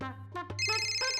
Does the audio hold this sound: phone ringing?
yes